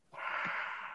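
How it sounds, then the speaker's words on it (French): A sleeping man breathes heavily, giving one loud rough snorting inhale that rises sharply and holds for most of a second, close and alone. "Il y a un frère qui respire fort là"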